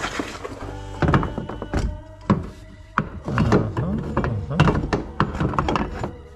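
A half shaft comes out from under a 1993 Corvette in a cramped space, with loud, close clunks, knocks and scraping metal rattles in an uneven burst, then shorter thuds.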